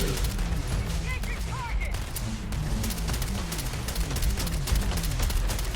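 Rapid, repeated pistol gunfire in the sci-fi video game Starfield, a dense run of sharp shots that continues without a break through the whole stretch, mixed with other combat noise and game voices.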